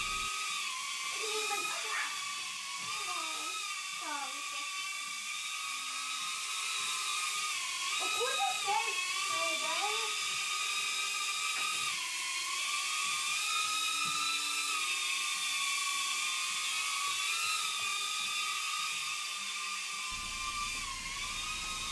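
A BetaFPV Cetus FPV drone flies with a high, steady electric whine from its small motors, the pitch rising and dipping as it takes off and moves forward.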